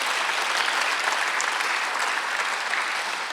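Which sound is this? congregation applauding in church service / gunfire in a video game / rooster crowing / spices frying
congregation applauding in church service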